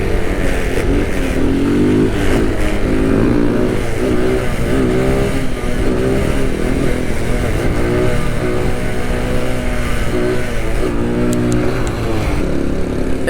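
A Honda Grom Z125 motorcycle with its stock exhaust rides steadily, its small engine droning and rising through repeated revs and gear changes, loud and continuous with wind rush throughout.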